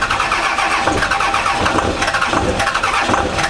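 A Cummins diesel pickup truck engine cranks and catches on a cold start, a loud rough rumbling clatter running steadily throughout with no talking.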